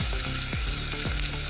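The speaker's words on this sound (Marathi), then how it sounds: "कांदा छान लाल होईपर्यंत आपण हा कांदा शिजवून घ्यायचा" Onion frying and being stirred in a pan for a chicken curry, a dense continuous sizzle with low rhythmic scraping strokes of a spatula repeating roughly every half second, close and loud.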